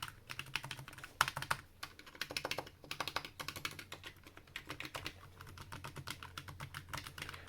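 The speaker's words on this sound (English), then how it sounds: "this is the linear switches, so I'll do a small typing test" Razer Huntsman mechanical keyboard with linear switches typed on steadily, a dense run of quick, smooth, close keystrokes with brief pauses, no talking.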